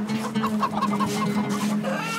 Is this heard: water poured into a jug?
no